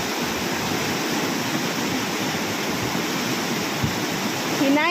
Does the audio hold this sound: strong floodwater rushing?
yes